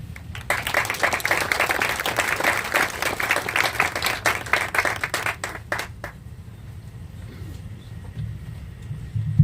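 Audience applause at a groundbreaking ceremony for a career and technical education center, welcoming a speaker to the podium; steady, dense clapping from a crowd that fades out after about six seconds, leaving quiet room tone.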